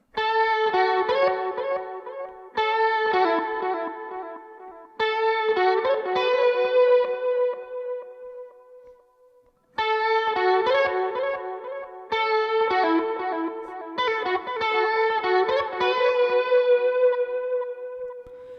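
An electric guitar riff with effects, from the worship song "Praise", plays in repeated phrases, dense with ringing harmonics and a drawn-out gap midway, bright and sustained, no voices.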